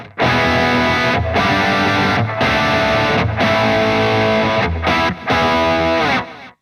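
Electric guitar through amp channel 2, a low-drive rhythm tone, chords strummed in repeated bursts with short gaps, loud and close with no talking.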